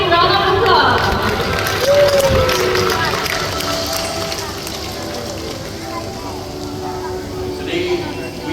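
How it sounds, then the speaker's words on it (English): A crowd claps and cheers at a bird show in Bird Paradise, Singapore, the applause loud and close with voices mixed in, slowly easing toward the end. "let's show them our appreciation by giving them a big round of applause"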